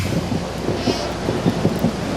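Heavy rain pours down during an outdoor football match, a dense steady hiss with low rumbling beneath it.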